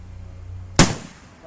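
A single sharp gunshot from a MAS 49/56 rifle, close and loud, cracking suddenly out of low background noise and then decaying quickly.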